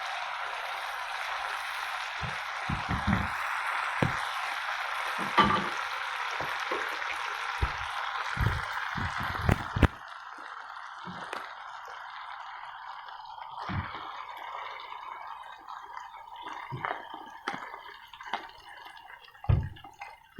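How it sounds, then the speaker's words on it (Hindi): Chana dal poured into a hot pan and frying, with wet drips, squishes and soft sizzling taps scattered over a steady background hiss, close and moderately loud. "अब इसको अच्छी तरह भून के हम इसमें चना दाल डालते हैं।"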